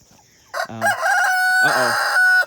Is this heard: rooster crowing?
yes